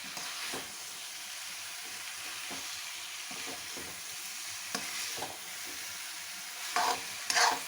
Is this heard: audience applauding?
no